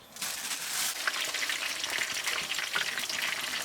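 Battered fish sizzles and crackles loudly in hot oil, a steady frying hiss with small pops, close by and without talk.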